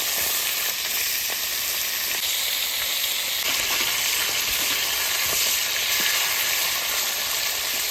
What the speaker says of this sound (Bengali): চিলি চিকেনের জন্য চিকেনগুলো ভেজে নেব।